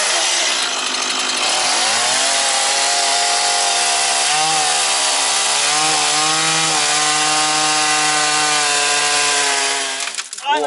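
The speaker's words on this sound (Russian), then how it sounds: "Ну что, пиляем, первый пропил делаем сегодня." A chainsaw cutting through logs for a dugout shelter near Chernobyl: loud, continuous buzzing engine with pitch wavering as the chain bites into the wood, sustained close up for about ten seconds with no talk.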